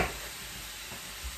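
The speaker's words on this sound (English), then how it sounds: "while all this frying together" Lecsó vegetables and chicken meat fry together in a pan, making an even, steady sizzling hiss at moderate volume, close and without any voice.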